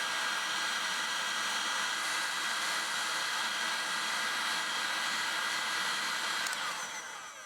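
A heat gun blows a loud, steady stream of hot air onto the body of a 1976 Toyota Celica RA24 rally car build, the roar holding constant and then starting to fade at the end.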